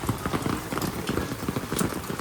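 Steady rain patters on a hard surface in the Konkan region, a dense crackling wash of drops with no voices.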